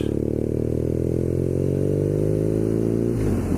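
A BMW R nineT Scrambler motorcycle being ridden, its engine droning loud and steady close by, the pitch slowly rising as it pulls, with wind noise over it and no talk.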